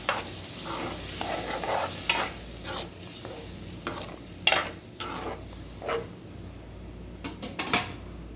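Fish curry with ground masala is stirred in a pan, with the spoon scraping and clinking against the metal over a soft, steady sizzle of frying, in irregular bursts close by.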